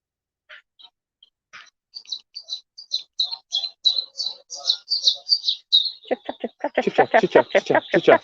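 Small bird chirping in quick repeated high tweets, fairly close, followed by a human voice imitating the chirps in rapid bursts.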